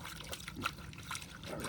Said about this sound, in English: Just to give it a quick little rinse, get all the mud out of there.